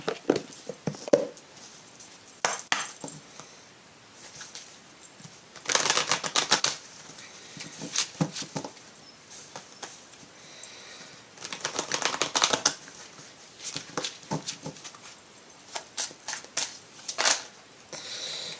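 A deck of oracle cards shuffled by hand in repeated bursts of crisp riffling and slapping, close and fairly loud, separated by short quiet pauses, with no voices.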